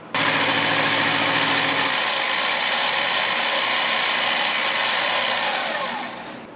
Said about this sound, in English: I'm going to chuck this up flat and mill the ends and get those trued up